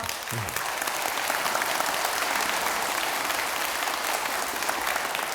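A temple congregation claps steadily during a Buddhist dharma talk at Hongbeopsa in Busan, at the Ullambana memorial service. The dense, even applause is loud and close, and it carries on without a break.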